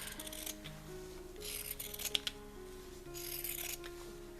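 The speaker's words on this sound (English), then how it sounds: "Now I'm going to use some pinking shears and trim around them" Pinking shears snipping through fabric around punch needle carrot embroidery, two bursts of crisp close-up cutting strokes with small clicks between them, quiet and without talk.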